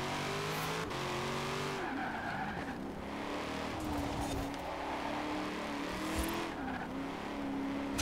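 A Corvette Z06 in the racing game Forza Horizon 4 revs and shifts through rising and falling engine tones, with tires squealing and skidding throughout, loud and continuous with no speech.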